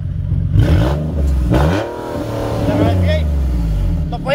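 A Nissan 370Z sports car's engine revs loudly and close by, its pitch rising and falling through several throttle blips with a steady idle between them.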